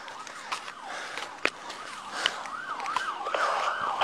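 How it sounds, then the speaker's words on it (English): Wailing police car sirens rise and fall continuously, several overlapping, with a few sharp bangs of gunfire and background commotion. "you got to shut your sirens off."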